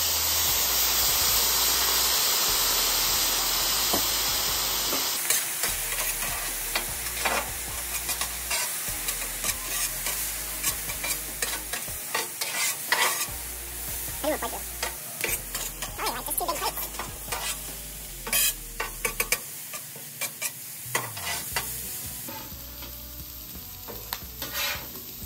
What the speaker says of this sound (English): Finish it off with a little dash of the soy sauce. That steam is gonna help cook your vegetables as well.